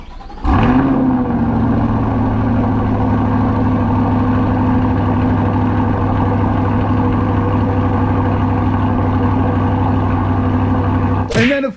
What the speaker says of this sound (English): we're gonna have a little bit of a cold start battle here.